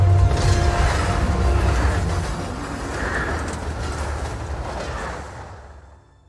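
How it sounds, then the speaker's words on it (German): An armored German supply train carrying tanks rolls past in the Call of Duty WW2 video game, a loud, dense rumble of rail cars with creaks and mechanical clanks that fades out at the end, with no talk. "Was für ein Zug hier, da sind da irgendwie drei Panzer integriert oder so."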